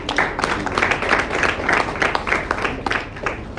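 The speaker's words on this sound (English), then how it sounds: "Can we all give them a round of applause?" An audience at a professional assembly claps in sustained applause, a dense, fairly loud patter of many hands that continues steadily for several seconds without speech over it.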